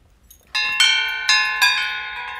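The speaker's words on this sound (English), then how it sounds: "got these really cool bells" Brand new bells ring out at an auction, four bright metallic strikes in quick succession, each leaving a long shimmering tone that overlaps the next, close and loud with no talking.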